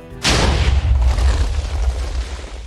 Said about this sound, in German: Böller.